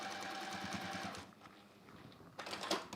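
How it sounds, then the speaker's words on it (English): A sewing machine stitches a seam on a foot-long flexi frame pouch, a fast rapid-fire needle chatter that pauses briefly before starting again, close and fairly quiet. "I'll just sew down that outer side as well"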